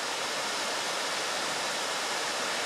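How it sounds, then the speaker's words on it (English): A waterfall on Keshequa Creek in Sonyea Forest roars as a steady, dense, broadband rush heard up close, unbroken and with no voices. "From the first time I ever came here years ago, I've always been fascinated by that waterfall right there."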